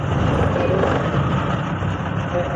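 A car engine idles with the clutch and brake pressed, a steady loud low rumble with a buzzing vibration filling the cabin, close and continuous with no speech.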